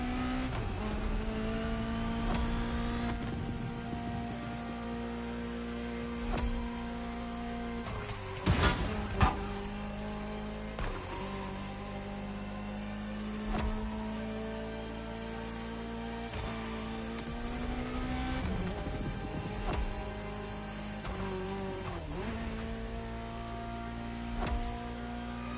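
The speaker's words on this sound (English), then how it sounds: "I like the sound of this thing. I can't tell if it's a V8 or a V12." A Ferrari sports car engine in The Crew Motorfest racing game drones steadily, its pitch rising and falling through gear changes and revs over about 25 seconds, with no talk over it.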